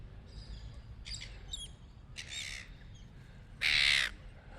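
Seagulls at Middleton Beach in Albany give several sharp squawking calls over steady outdoor background noise, with a louder, harsher burst near the end; the birds sound fairly close.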